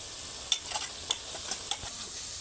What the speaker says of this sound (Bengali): এইবার পেঁয়াজ আদা রসুন সব কিছু একসঙ্গে ভাজা ভাজা করে নেব।